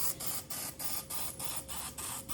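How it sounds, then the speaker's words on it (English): Aerosol cooking spray hisses into the wells of a baking pan in rapid short bursts, about seven quick sprays in a steady rhythm, close and fairly quiet. "So I'm just gonna spray each well really quickly."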